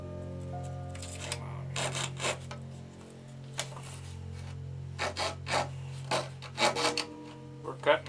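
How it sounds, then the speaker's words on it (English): A hand saw cuts through plywood for a model aircraft wing with irregular rasping strokes that come in short bursts and pauses over a steady low hum, close and moderately loud. "Cutting plywood here."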